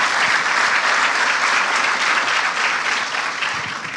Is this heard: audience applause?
yes